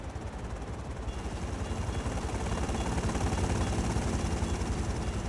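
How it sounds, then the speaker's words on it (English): A helicopter in GTA Liberty City Stories drones steadily close by, its rotor beating in a fast, even low thump over a broad engine whine that holds loud for the whole stretch. "Nope, there's a helicopter."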